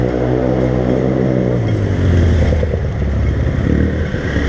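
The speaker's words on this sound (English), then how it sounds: "guy in his souped up moped" A souped-up moped on a Macau street, its small engine loud and close, revving with a shifting buzzing drone that climbs in pitch.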